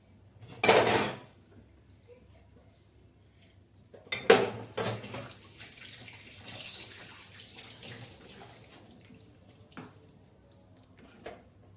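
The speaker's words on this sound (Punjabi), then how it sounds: "ਹੁਣ ਆਪਾਂ ਭਾਂਡੇ ਮਾਂਜ ਕੇ ਫਿਰ ਸੋਈ ਸਾਫ ਕਰਨੇ ਆ" Dishes, pots and cutlery being scrubbed and rinsed under running tap water in a Punjabi village home kitchen: loud clattering bursts of metal utensils near the start and middle, then steady splashing and clinking with no talk.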